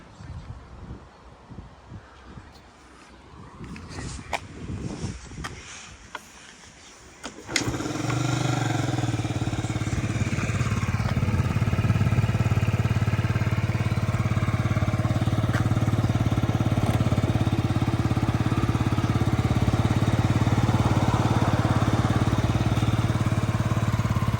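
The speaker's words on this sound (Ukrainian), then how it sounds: "чисто, чисто і гарненько працює двигун." A Yamaha Jog SA39 ZR fuel-injected scooter engine from Japan starts up and idles steadily and loudly at close range, a continuous low buzzing drone after a few seconds of quieter handling noise.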